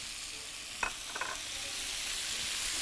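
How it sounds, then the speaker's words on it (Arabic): Meat and onion stirred and sautéing with spices in a little oil, a steady broadband sizzle throughout with a few brief scraping stirs of the utensil against the pan, close and even. "انا عايزه اشوح اللحمه مع التوابل اللي انا حطيتها في شويه الزيت بالشكل ده كده"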